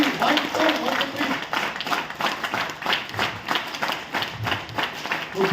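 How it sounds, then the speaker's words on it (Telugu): Rhythmic clapping from a crowd filling a meeting hall for an electric bike business gathering, steady repeated beats in counted sets, loud and near with voices mixed in. "ఒకసారి గట్టిగా క్లాప్స్ చేయండి"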